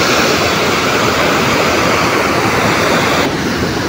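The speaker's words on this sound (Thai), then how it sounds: "น้ำกำลังแรงมาก" Strong water pours over a weir in heavy rain season, a loud, continuous rushing roar that fills the whole clip with no voices.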